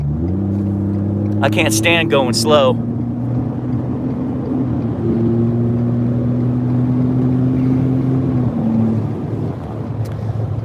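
A performance Ford F150 twin turbo pickup drones steadily from inside the cab as it accelerates toward highway speed, its engine note holding then easing off, with someone speaking briefly early on.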